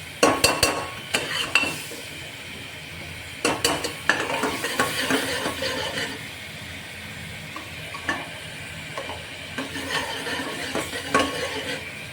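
Spices tempering in hot oil for moong and masoor dal: a soft frying hiss under repeated close spoon clinks and stirring scrapes against the pot, coming in uneven bursts with no voices.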